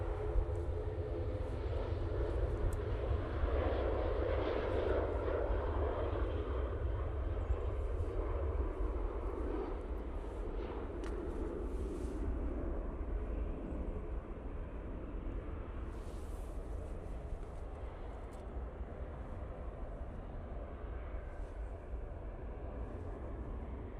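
A SunExpress airliner rolls down the runway for takeoff at Manchester Airport, its engines producing a broad, steady distant roar that holds for the whole stretch without talk.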